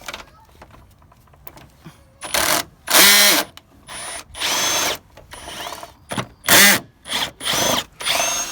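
A power tool whirs in short bursts while removing bolts during a radiator replacement on an Infiniti G35. About eight loud, close spins come in an uneven rhythm, with quiet gaps between them and no voices.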